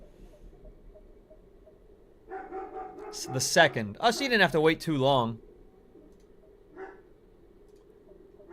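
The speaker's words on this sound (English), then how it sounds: "The dog is flipping out." A dog barks and yips in a quick burst of several sharp, loud barks indoors, close to the microphone, with people talking just before and after over a low steady hum.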